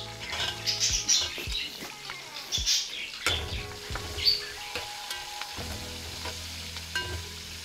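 Chopped onions sizzle and fry in hot oil with spices and green chillies for a soybean and pavta bean rice, a steady crackling hiss with stirring scrapes, close and fairly loud, no talk.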